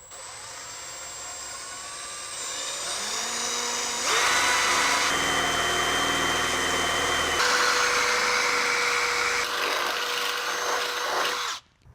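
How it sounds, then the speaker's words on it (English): A handheld power drill bores holes in a Mercedes Sprinter van for Vanspeed side step brackets, whining up to a loud, sustained grinding drone with slight shifts in pitch before cutting off abruptly at the end. "we're gonna go ahead and start and drill these out"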